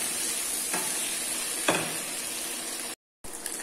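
Pork sizzling steadily as it fries in a pan, with occasional scraping stirs, a brief silent break near the end.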